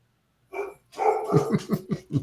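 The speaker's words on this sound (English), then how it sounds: "Dogs." Several dogs bark in a quick run of sharp, repeated barks after a brief opening yelp, fairly close and loud with no talking over them.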